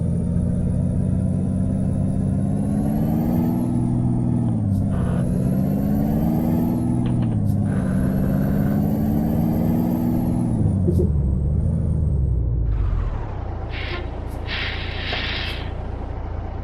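A truck in Euro Truck Simulator 2 driven with a G27 wheel, with a loud steady engine drone that shifts pitch as gears change, then a brief hiss like an air brake near the end.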